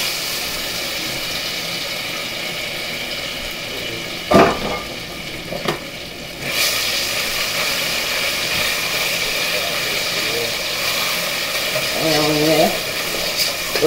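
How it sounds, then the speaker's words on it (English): Pork goes into a hot wok for fried rice, hissing in a broad steady sizzle, with a couple of sharp clanks of utensil on metal partway through. "my wok is nice and hot. So we're gonna cook the pork first"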